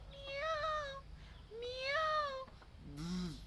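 Voices in a kindergarten class imitate a kitten meowing, giving three drawn-out, wavering meows, the last one lower and shorter.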